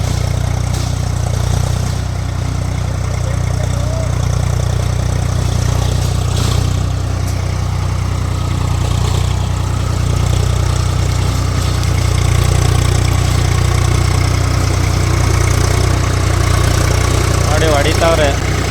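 Tractor working a rotary tiller through a coconut grove overgrown with weeds, its steady droning engine loud and close throughout, with faint voices under it near the end.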